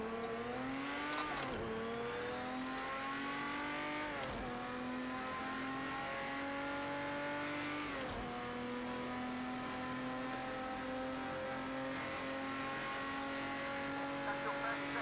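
A Porsche race car in Project CARS 2, racing at Le Mans in 1971, revs its engine hard and climbs through the gears with quick shifts, producing a loud, continuous howling drone.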